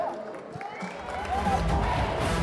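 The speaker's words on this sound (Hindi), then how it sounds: "जोरदार तालियां" Crowd cheering and applause at a film trailer launch event, a steady roar of voices and clapping that swells louder toward the end, with speech mixed in.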